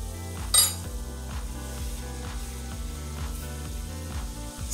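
Onions sauté in a pan for a plant-based meal, a soft steady sizzle broken by metal utensil clinks and scrapes as they are stirred, close and fairly quiet under a low hum.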